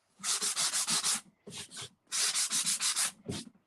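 Sandpaper rubbed by hand across a wooden tabletop in quick back-and-forth strokes, a close, loud scratchy rasp in two bursts of about six strokes each, separated by short pauses and a couple of slower passes.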